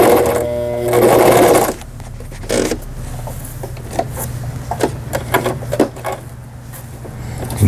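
A Brother XL5500 sewing machine stitching a rolled hem whirs loudly at first, then stops, followed by rapid close needle thumps and fabric handling sounds under a constant motor hum.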